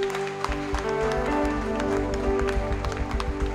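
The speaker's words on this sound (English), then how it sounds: "Clap your hands for Jesus." A church congregation claps hands together during worship, a dense, steady patter of many palms over sustained music, continuing throughout.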